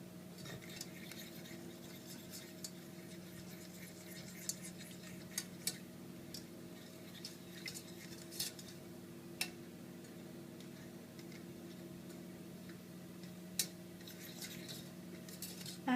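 A spoon stirring a paleo granola mixture with melted coconut in a pot, light scattered clinks and taps against the metal over a low steady hum, with no talk.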